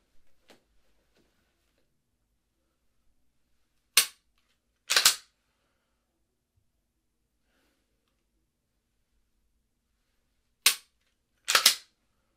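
Handgun shots ring out on a range as multiple targets are engaged, in two quick pairs several seconds apart, each report sharp and loud against near silence.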